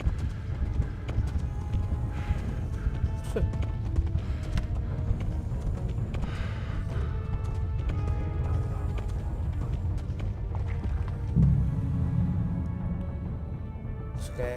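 A horse in the video game Kingdom Come gallops with continuous rhythmic clip-clop hoofbeats, steady and fairly close, over a busy game soundscape, with a brief snort or whinny near the end.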